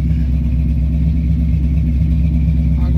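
An engine idles steadily while its carburettor is being adjusted, a smooth, even mid-pitched hum that holds constant and close for the whole stretch, with no voices over it.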